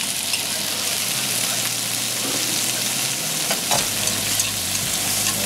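Shrimp sizzle and fry in a hot pan with garlic and red onions for seafood fried rice, a steady loud crackling hiss with occasional scraping stirs and a low hum underneath.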